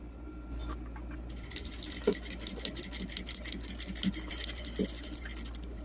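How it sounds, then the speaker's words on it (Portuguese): A sewing machine stitches quilt block halves together along a diagonal seam, giving a quiet rapid chatter of needle strokes that runs continuously with a low motor hum, with a few soft knocks. "agora a gente vai só costurar nessa diagonal"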